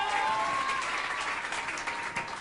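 A concert or TV studio crowd applauding, a broad wash of clapping and cheering at moderate volume that fades slightly toward the end.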